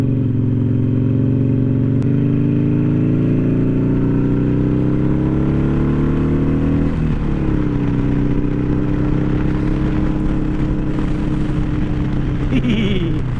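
Harley-Davidson Iron 883 motorcycle engine revved up hard, a loud close throaty roar that climbs in pitch, dips, then rises again and holds, with a rider talking over it.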